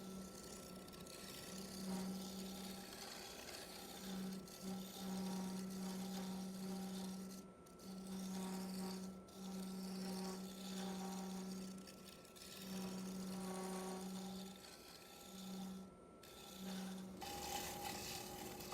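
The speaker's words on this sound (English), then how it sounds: "I'm going to go over it with the negative rake scraper and try to clean up some tear out" Negative rake scraper working a maple bowl on a wood lathe, a steady motor hum under repeated raspy scraping passes that start and stop in a loose rhythm, fairly quiet and close.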